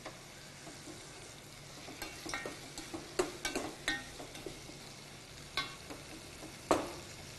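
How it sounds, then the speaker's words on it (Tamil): Onions sautéing in a pan, a faint steady sizzle broken by scattered scrapes and taps of a spoon stirring, close with no talking. "வெங்காயம் வதங்கிடுச்சு"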